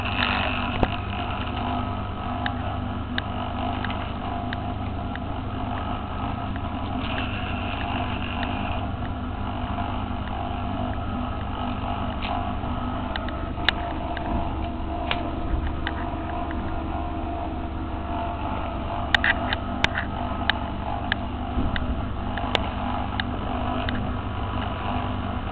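A Tesla turbine on a magnetic bearing spins with a steady, muffled mechanical whir and faint wind-like noise, broken by occasional small clicks and ticks, and nobody speaks.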